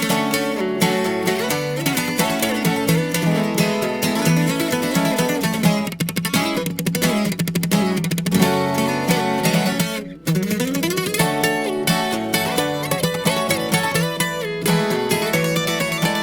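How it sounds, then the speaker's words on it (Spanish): Dense mix of sierreño guitars, a twelve-string alongside another guitar, playing a corridos tumbados part with rapid strummed and plucked notes, loud and continuous with no voices. "Y en contexto justamente con la guitarra es que suena así."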